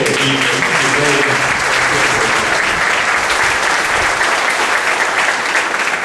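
A congregation bursts into loud, sustained applause during a church service, a dense wash of many hands clapping close and steady from start to finish, with a voice briefly audible over it at the beginning.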